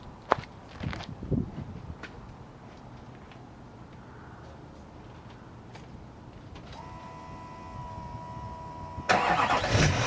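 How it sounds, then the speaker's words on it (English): Diesel truck with a quiet exhaust system starting up after some door and handling clatter, the starter whirring before the engine catches into a loud, steady idle near the end. "Everybody likes to hear diesels start."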